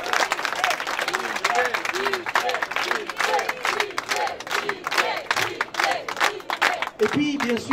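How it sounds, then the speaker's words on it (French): Applause from an audience at a closing-night event for a French cultural week, steady dense clapping with crowd voices and shouts mixed in throughout, ending with a brief voice near the close. "Je voudrais qu'on les applaudisse tous parce qu'ils ont fait un travail remarquable."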